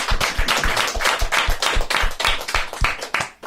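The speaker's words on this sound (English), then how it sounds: "How about a round of applause for Rita" Close, fairly loud clapping from a small group of hands with distinct individual claps in a quick uneven rhythm, for a guest named Rita at a music panel discussion, tapering off at the end.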